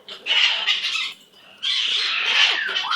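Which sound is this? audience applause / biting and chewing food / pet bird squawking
pet bird squawking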